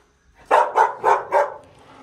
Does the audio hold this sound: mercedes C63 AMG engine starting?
no